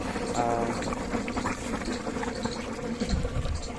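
Quicklime soaking in water fizzes and bubbles as it starts to boil, a busy crackling seethe with a low gurgle near the end.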